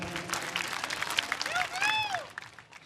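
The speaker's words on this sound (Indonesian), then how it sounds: "Kita berikan tepuk tangan." An audience at a sholawat gathering in Bogor, Indonesia, applauds with a soft, fairly distant patter of clapping under a speaking voice.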